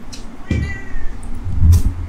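A cat meows loudly and close by, giving two or three short cries in quick succession.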